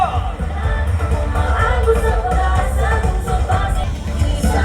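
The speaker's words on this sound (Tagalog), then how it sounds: "isa malakas sa hiyawan" A crowd cheers loudly at a city employees' parade celebrating Pasig Day, a dense sustained roar of many voices with shouts rising throughout.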